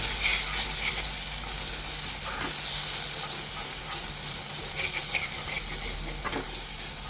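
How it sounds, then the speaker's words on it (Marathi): Ground wet masala paste fries in hot oil in a home kitchen for a spicy mutton curry, giving a continuous low sizzle with small crackles and scraping clicks throughout. "मिक्सरच्या भांड्यातून वाटण काढून घेतलं आहे त्याला मस्तपैकी आता आपण परतून घेऊया भाजून घेऊया"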